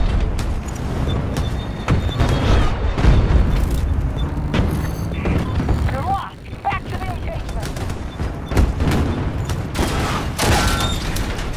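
Explosions and gunfire in the video game Battlefield 2042, a dense, loud, continuous barrage of booms and rattling shots with voices talking underneath.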